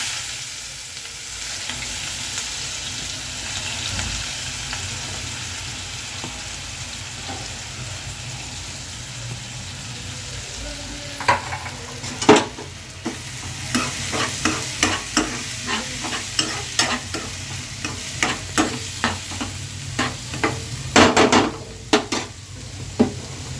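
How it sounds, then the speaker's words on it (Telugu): Chopped onions fry in a pan with a constant loud sizzle, and from midway on they are stirred with a spoon that scrapes and taps the pan in quick, irregular strokes. "మనం ముందుగా కోసి పెట్టుకున్న ఉల్లిపాయలు వేసుకుందాం"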